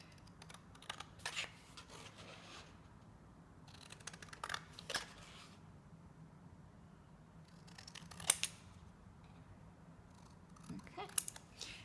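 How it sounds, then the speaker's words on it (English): Scissors cut out a paper hexagon in a few separate bursts of quiet snipping, with soft crisp clicks and paper rustle spaced across a low, steady background. "I'm going to cut out my hexagon"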